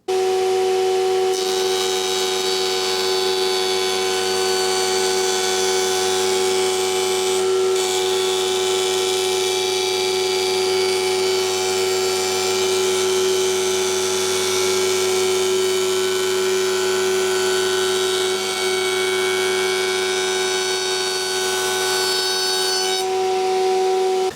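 A router table set up as an edge jointer cuts along the edge of a wooden board, giving a loud, steady high-pitched whine that holds evenly for about twenty seconds with no talking.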